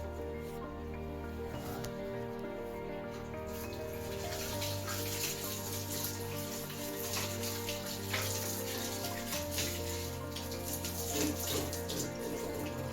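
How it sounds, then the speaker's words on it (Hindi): Tap water runs steadily while someone washes their hands, a continuous close splashing rush with some irregular drips and spatters and no talk. "मैं हाथ धो लूँ यार थोड़ा सा"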